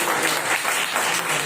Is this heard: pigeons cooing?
no